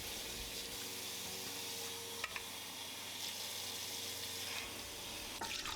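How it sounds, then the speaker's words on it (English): Cold tap water runs steadily into a sink while bread and butter pickles are rinsed, a continuous close hiss with occasional small clinks and splashes, and no talking. "They need to be rinsed well with some cold water, making sure to allow them to sit and drain thoroughly."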